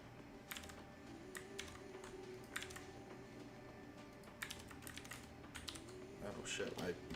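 Rapid clicks of a computer keyboard come in irregular bursts, fairly close, with faint talk and a low background hum underneath, the keystrokes growing busier toward the end.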